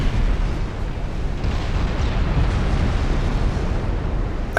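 Naval guns fire high-explosive shells at an Italian battleship carrying 13.2-inch guns in Ultimate Admiral Dreadnoughts, producing a continuous loud, rumbling roar of blasts and explosions that stays heavy and steady throughout.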